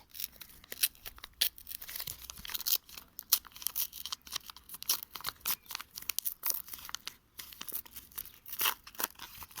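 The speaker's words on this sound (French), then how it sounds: "comme j'ai compris comment s'ouvrir les boosters" A 2021 McDonald's Pokémon booster pack torn open and crinkled by hand up close, with repeated sharp foil rips and crackling that come in uneven bursts throughout.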